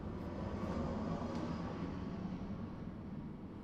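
An airplane passes overhead as a steady broad roar that swells early and then slowly fades, distant and fairly faint, with no talking.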